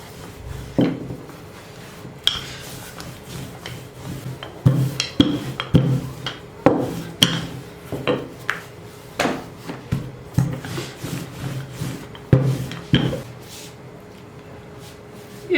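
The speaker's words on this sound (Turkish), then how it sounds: "Çok aşırı un serpmeden hamurumu şöyle açıyorum" Rolling out dough with very little flour for a layered pastry, a series of irregular wooden knocks and rubbing thumps from the rolling pin on the board, close and fairly loud.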